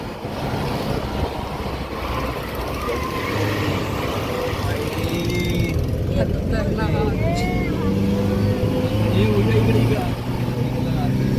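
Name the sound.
vehicle with 250 cc engine climbing the hill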